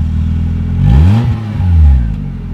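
An old car's engine revs hard twice in quick succession, each surge climbing and falling in a loud, close roar over a steady idle, on a freezing day.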